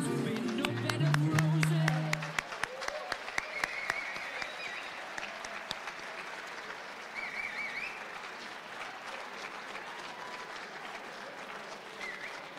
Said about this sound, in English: One more round of applause for our student athletes.